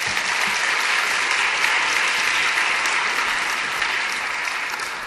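A church congregation applauds warmly to welcome a pastor at a Sunday worship service, producing dense, steady clapping that holds at an even level throughout and fades slightly toward the end.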